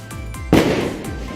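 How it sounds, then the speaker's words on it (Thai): Firecrackers going off during a New Year celebration, one loud sharp bang with a ringing tail followed by fainter distant pops, close and booming with no voices. "คนจุดประทัดในบ้าน"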